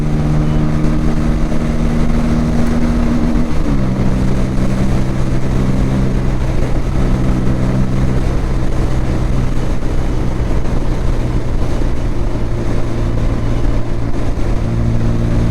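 A group of Yamaha R15 motorcycles rides together on a road, their engines making a steady, loud, continuous drone that shifts pitch once early on and then holds, with no voices.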